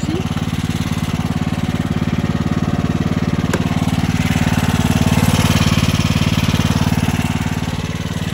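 Small motor engine idling steadily, a loud, even, rapid putter that holds a constant pace with no revving for the whole stretch.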